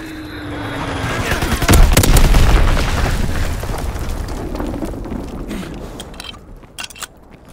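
A heavy bomb blast in a military shooter video game, a deep booming burst that swells loudly then rolls off into a long rumbling tail, with scattered sharp pops of distant gunfire toward the end.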